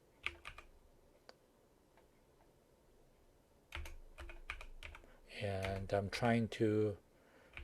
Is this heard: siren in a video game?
no